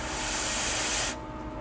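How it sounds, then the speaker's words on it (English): A can of freeze spray hisses onto an electronic inductor in one steady, loud blast of about a second that cuts off abruptly, leaving quieter background noise. "a quick blast with the freeze spray"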